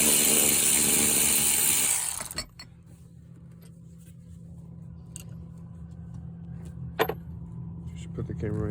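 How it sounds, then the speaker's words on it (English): An electric ratchet loosens bolts on a 2010 BMW 650i (E63) during passenger-side seatbelt pretensioner removal: a loud, close motor whir for about two seconds, then quieter clinks of handling and a sharp knock over a steady low hum. "you'll have an electric ratchet like this to make the process of getting out these bolts"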